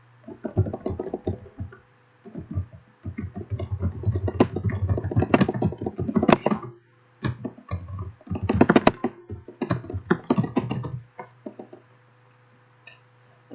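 Computer keys being typed in irregular bursts of clicks with short pauses, entering commands for Cisco router and switch configuration, close and fairly loud, no talking.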